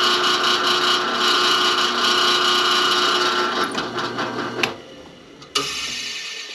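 A drill press drilling a guitar fretboard for pearl fret marker dots hums steadily with a mechanical whir, then winds down, followed by a couple of sharp clicks near the end.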